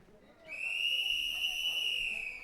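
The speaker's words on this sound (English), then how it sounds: "There's the whistle." Referee's whistle opening the third heat of a STIHL Timbersports Nordic Pro Championship 2023 event, one long steady shrill blast of about two seconds, loud and clear over faint crowd and arena noise.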